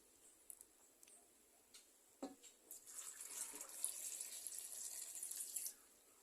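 Water pours into an Instant Pot over dry stew ingredients and frozen coconut milk, starting with a few faint drips and clinks, then a soft steady trickle for a few seconds before cutting off.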